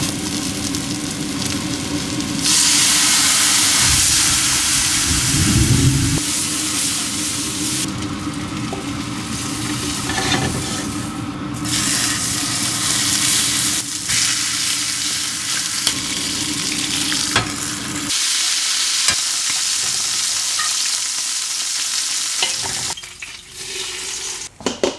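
Garlic and onions frying in a pot for a chicken tortilla soup, with a continuous close sizzle and crackle, scraping stir strokes coming and going, and no talking.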